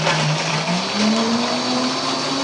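A blender runs on its smoothie setting while making a copycat mocha frappuccino, giving a loud continuous whir with a motor pitch that slowly rises.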